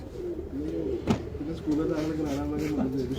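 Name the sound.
pigeon cooing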